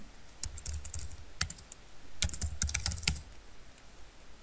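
A username being typed on a computer keyboard, with close clicky key taps in short irregular bursts separated by brief pauses, no talking.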